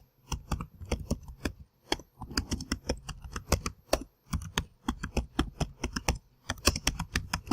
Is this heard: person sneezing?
no